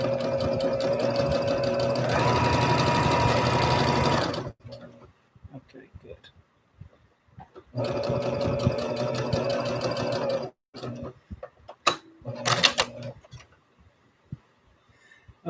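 A sewing machine stitches a T-shirt neckline on a plus-size pajama tee, running in two long steady bursts of rapid needle clatter with quiet pauses and a short final run, close and loud.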